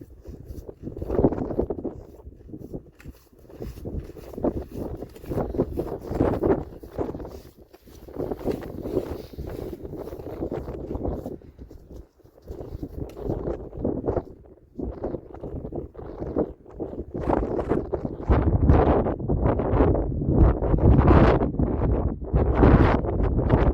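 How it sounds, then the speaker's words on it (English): Harsh, gusty wind on a high mountain trek route, with snowfall in the air, roars and buffets the microphone in loud rushing surges that swell and fade across the whole stretch, growing fiercer toward the end. "The sharp wind brought along snowfall, making it impossible to get the camera out."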